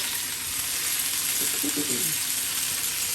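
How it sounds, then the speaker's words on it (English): Butter sizzles and browns in a hot pan while being stirred, making a constant bright crackle with a brief muffled scrape of mixing partway through. "the butter is starting to brown."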